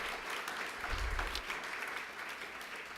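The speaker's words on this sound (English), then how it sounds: "round of applause for our judges and reading committee" Audience applause at an evening poetry slam event honoring judges and a reading committee, a steady crowd clapping that holds throughout at moderate level.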